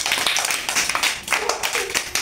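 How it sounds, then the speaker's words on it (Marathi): Children at an anganwadi clapping to welcome their parents, a loose, uneven patter of small hands in bursts, close by and fairly loud. "बाळांनो टाळ्या वाजा बरं, वाजा टाळ्या."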